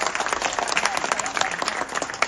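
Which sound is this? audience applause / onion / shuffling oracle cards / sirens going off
audience applause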